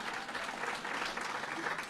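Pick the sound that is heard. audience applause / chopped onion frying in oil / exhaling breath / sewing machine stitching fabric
audience applause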